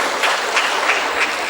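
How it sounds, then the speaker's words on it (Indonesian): A steady wash of audience applause during a women's community event session, dense overlapping clapping at moderate loudness with slight surges. "tepuk tangan sekali lagi"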